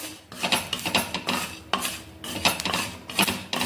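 Masala spices roasting and being stirred in a pan for spicy matka mutton, with repeated scraping and clinking of a utensil against the pan, close and steady, with no talk.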